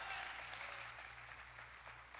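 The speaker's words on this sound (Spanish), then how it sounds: "Vamos a dar un aplauso al Señor." Applause from a church congregation during a Spanish-language sermon, steady dense clapping that fills the space evenly and holds at a consistent level throughout.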